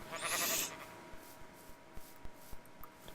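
Bleating sheep in the Minecraft video game, a short wavering bleat near the start followed by a series of soft, evenly spaced taps or footsteps, fairly quiet and with no talking.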